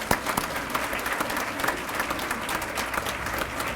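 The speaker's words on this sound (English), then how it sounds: "Let's have one more round of applause for all of our great folks." Audience applause at a classified employee of the year awards ceremony, steady dense clapping from a room full of people, continuous and fairly loud.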